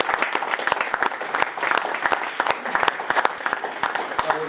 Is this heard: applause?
yes